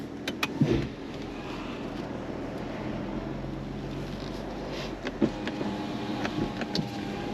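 BMW 340d Touring with a six-cylinder diesel rated at 340 horsepower on a test drive near Rodez in Aveyron: a low, steady drone and road rumble with light wind noise and a few faint clicks, heard alone.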